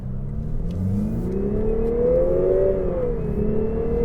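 A 2018 Lexus RC 300 F-Sport accelerates hard in sport mode, its engine note rising steadily in pitch, dipping briefly at a shift, then climbing again, loud and close with no voices.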